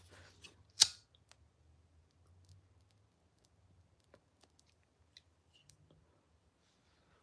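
One sharp, close snip of scissors cutting fishing leader line, followed by a few faint ticks and small handling clicks in an otherwise quiet space.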